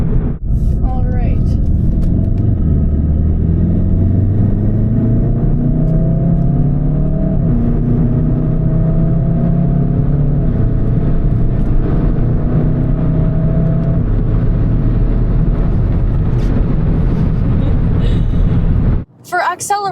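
Volkswagen Golf R with an automatic gearbox, heard from inside the car as its engine drone climbs steadily in pitch while accelerating, with wind rush underneath throughout, then cut off abruptly at the end.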